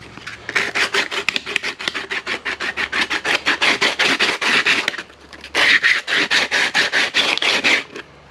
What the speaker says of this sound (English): Now we'll get some sandpaper and smooth out these edges.